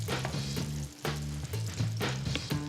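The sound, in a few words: pancake batter sizzling in buttered pan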